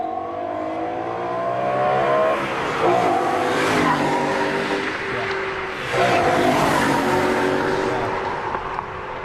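A BMW M3 engine revs hard and accelerates past close by, its tone climbing in two loud surges, with a gritty mid-range roar.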